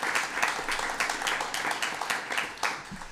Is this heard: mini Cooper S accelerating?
no